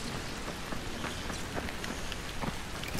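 Steady rain falls in the zombie video game Dying Light, a constant full hiss of drops on surfaces with faint soft thuds scattered through, no speech.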